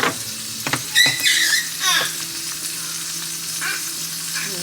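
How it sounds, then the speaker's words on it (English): Seasoned food fries in a pan with cayenne, lemon pepper and brown sugar, crackling and sizzling steadily at close range, with a few louder stirring scrapes early on and no talking. "Y'all hear my sizzle."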